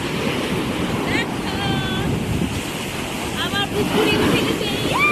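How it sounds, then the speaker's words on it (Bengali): Waves and water currents wash against the shore of Mousuni Island under constant wind rumble. A voice talks over the steady surf, and faint bird calls drift in from a distance. "দেখো স্রোত দেখো"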